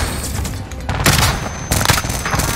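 A frag grenade blasts in a shooter video game amid a dense, continuous wash of battle noise, with two heavy bursts of booming gunfire-like impact standing out over the steady roar.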